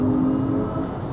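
Synthetic acceleration tone from a Kia EV6 Long Range RWD electric car, a steady sustained hum with a bright pitched line held through the short stretch, fairly loud inside the cabin, with no talking.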